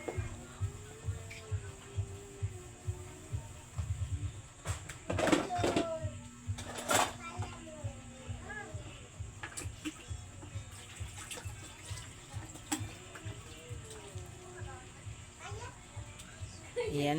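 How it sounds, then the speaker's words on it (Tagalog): Dishes are washed with water and soap, with running water, splashing and clinking plates heard repeatedly while a person talks throughout. "Araw-araw naghuhugas yan ng pinggan."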